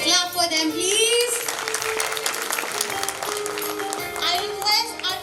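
Audience applause at a school annual function, a steady wash of clapping that rises and falls over several seconds, with children's voices and music mixed in beneath it.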